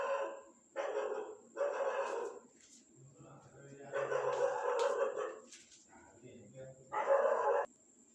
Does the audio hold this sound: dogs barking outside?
yes